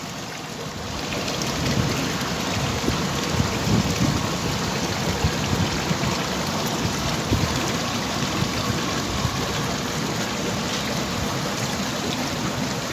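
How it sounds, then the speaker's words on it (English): Freshwater river water pumped into fish holding tanks makes a steady, dense rush of splashing and pouring, loud and continuous throughout with no talk. "freshwater river water, which is pumped up using a pump into these tanks"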